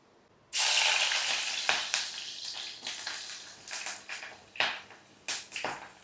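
Fenugreek seeds hit hot coconut oil for a Kerala sardine chilli curry and burst into a sudden loud sizzle, which settles into a steady frying hiss broken by sharper crackles and stirring, with no talk.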